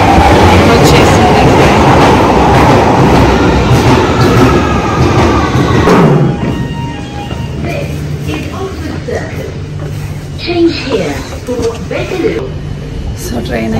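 A train pulling into a UK station platform on a London to Manchester commute, with a loud rumbling roar that fades after about six seconds into quieter platform ambience, a low hum and faint squeals, while people talk.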